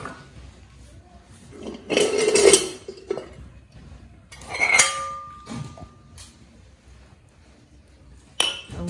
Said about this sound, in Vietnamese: tiếp tục định rửa nồi làm gì ấy